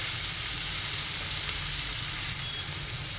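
Onion sizzles steadily in a pan for a puffed rice upma, a dense, even frying hiss heard close up with no voices and only faint stirring.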